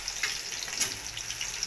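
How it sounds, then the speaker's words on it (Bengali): Baby corn frying in hot oil in a wok gives a steady close sizzle and crackle with small popping bursts throughout. "এগুলো আমি লাল লাল করে ভেজে তুলে নেব"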